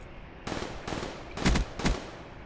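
Four short bursts of automatic gunfire in Call of Duty: Black Ops 2 team deathmatch, each a loud rattling volley separated by brief pauses, the last two heavier and punchier.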